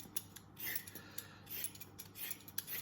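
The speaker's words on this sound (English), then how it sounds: "What you need to do is a quick peel." A carrot being quickly peeled: repeated short, rough scraping strokes in an uneven rhythm, close and fairly quiet, with no voices.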